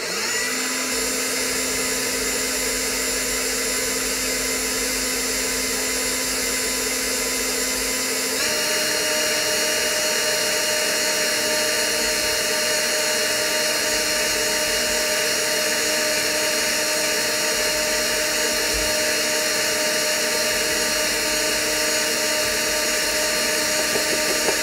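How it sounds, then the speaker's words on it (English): An electric mixer whips egg whites at low to medium speed while sugar is gradually added, a steady loud whirring drone that runs without a break and shifts pitch slightly partway through, with no voices. "with the mixer running on low to medium speed, I'm gonna gradually add my sugar in, and then I'll continue whipping this until I'm just under stiff peaks"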